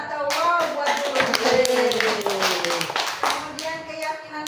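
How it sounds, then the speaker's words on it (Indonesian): A class claps for their teacher, a quick burst of hand clapping mixed with children's voices and chatter that rises and fades over a few seconds. "tepuk tangan atau wow buat guru"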